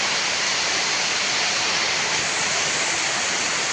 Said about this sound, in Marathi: पावसाचं तर जोर वाढायला लागले सांडीतनं तर पाणी वाहायला लागले